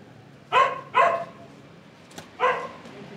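Three loud barks from a husky, two in quick succession and a third after a pause, with a faint click in between; no talking.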